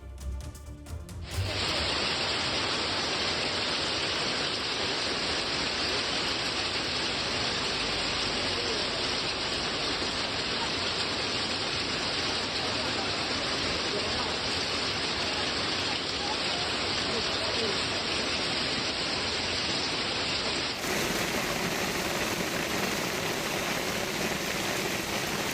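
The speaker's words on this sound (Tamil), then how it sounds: "குணா குகை, பைன் மரக்காடுகள் உள்ளிட்ட இடங்களில் சுமார் அரை மணி நேரத்திற்கும் மேலாக ஆலங்கட்டி மழை பெய்தது." Heavy hailstorm rain pours steadily in the Kodaikanal hills near pine forests, a dense, continuous roar of falling ice and water that stays loud throughout, with a brief rougher burst at the start and a slight shift near the end.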